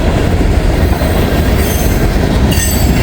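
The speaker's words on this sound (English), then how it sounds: "The 558 south of Hamilton's always a real good train, loaded. Oh, lots of cars too." A long, loaded freight train with many cars rumbles by at close range, loud and steady, with faint wheel squeal and rail clatter.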